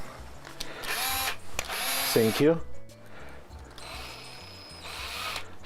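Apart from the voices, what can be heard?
power drill drilling small holes in plastic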